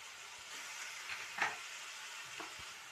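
Chillies frying in oil in a pan with onions for a potato and egg curry, a quiet steady sizzle with a few soft stirring clinks, heard close and alone.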